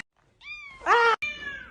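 A house cat indoors gives a few short, close meows in quick succession, one louder and strained, heard alone in a quiet room.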